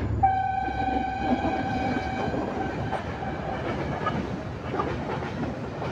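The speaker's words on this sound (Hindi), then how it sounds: "टाउन में कुछ ट्रेन पास हो रही है" A Shalimar Express train rumbles along steadily, close and moderately loud, with a drawn-out horn blast at the start that fades as the rolling rail noise carries on.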